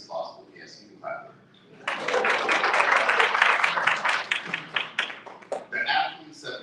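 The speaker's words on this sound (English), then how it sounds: "Yes, you can clap." Audience applause at a sports awards ceremony swells suddenly into a dense, sustained roar of clapping for several seconds, then thins out, with a speaker's voice before and after it.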